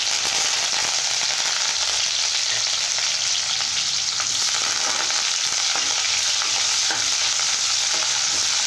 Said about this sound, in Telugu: పోపు వేగిందండి